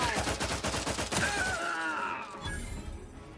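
Video game gunfire rattles in a dense, loud burst of rapid shots during a combat sequence, with booms and debris-like crashes, then the volley cuts off into a brief lingering ring and quieter rumble.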